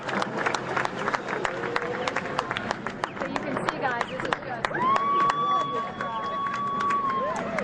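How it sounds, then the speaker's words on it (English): A happy crowd gathered outdoors after the Boston bombing suspect's arrest, with rhythmic clapping, cheering and crowd babble at mid distance, a horn sounding near the end, and people talking close by. "They're a crowd that is extremely happy with the outcome."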